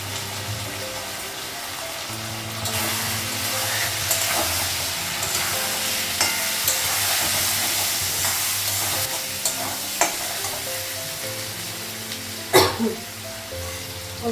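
Cumin seeds frying in hot oil while being stirred, a steady close sizzle with scraping stir strokes and a few sharp knocks near the end.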